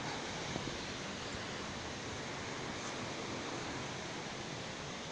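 Waterfall in Barot valley, a steady broadband roar of falling water that stays constant throughout, with no talk.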